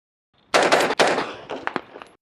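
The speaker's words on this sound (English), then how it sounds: "Okay, so here we use the flash hider. This is the 3-prong open tine flash hider." A rifle fitted with a SilencerCo ASR three-prong open-tine flash hider fires several sharp, loud shots close by in quick succession, with a ragged string of reports tapering off at the end.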